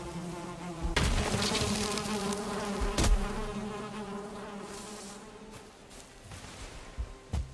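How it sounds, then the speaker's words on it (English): Bees buzz steadily around a beehive in the video game Valheim, a close, continuous drone, while a few sharp thumps and clicks cut in now and then. "Added a queen bee."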